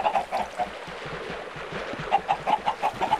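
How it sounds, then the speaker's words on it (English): Minecraft chickens cluck in short, repeated bursts in the game, a cluster near the start and a livelier run toward the end, with no one talking. "What's with all these chickens?"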